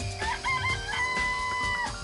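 Chickens in a coop in the Danganronpa video game cluck and crow, with rooster-like calls over a low backdrop of game music. No one speaks.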